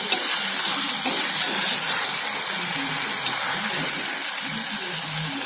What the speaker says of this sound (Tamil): இப்போ நம்ம பூசணிக்காய் போடலாம். இதை ஒரு 2 வதக்கலாம்.